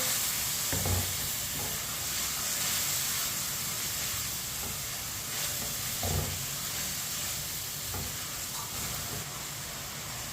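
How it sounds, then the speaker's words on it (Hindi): Spinach frying in a pan over medium heat gives a steady, close hiss and sizzle, broken by a few soft scrapes and knocks as a spoon stirs it. "मीडियम आंच पर पालक को डालें।"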